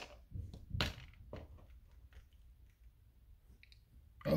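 A door lock is turned slowly, heard as a few quiet clicks and soft thunks spread over several seconds, close by and faint, followed by a louder click at the end, with no talk.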